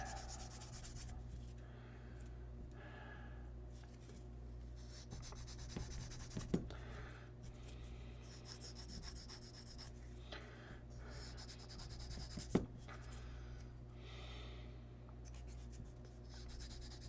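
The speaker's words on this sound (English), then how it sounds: "Just a real quick cleanup with the sanding stick here." Sanding stick rubbing over parts of an Academy Hetzer plastic model kit, a soft, close, rasping scratch in repeated bursts of strokes with brief pauses and a low steady hum beneath.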